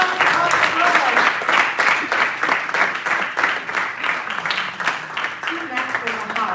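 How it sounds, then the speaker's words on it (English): An audience at a cricket media launch breaks into applause, a dense burst of clapping that starts strong and gradually thins out over several seconds, with some voices mixed in. "Ladies and gentlemen, a round of applause."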